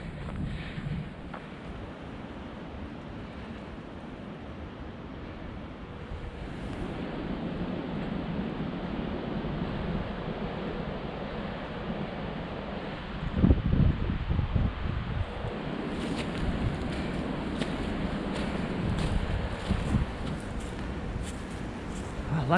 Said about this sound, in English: Man, I can really hear the wind blowing through those towers.